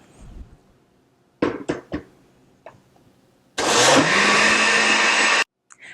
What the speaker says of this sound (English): you will blend the mixture for 2 minutes if you're working with a regular powered blender